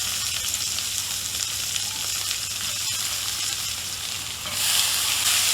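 Chopped onions sizzle steadily in a pan for a clam thoran, a continuous broadband frying hiss with a low hum beneath, swelling louder near the end.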